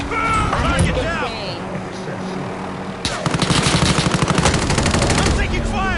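Rapid bursts of automatic gunfire in a shooter video game, with dense sustained rattling in the second half, loud and close, mixed with game voices and effects.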